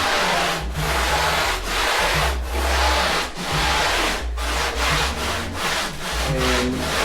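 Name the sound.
electric planer shaping a custom surfboard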